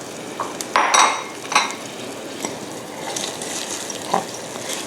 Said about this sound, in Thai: แล้วก็ที่เหลือเราเอาผักที่เหลือลวกรวมกันค่ะ